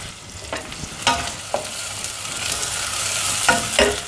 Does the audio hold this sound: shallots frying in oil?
yes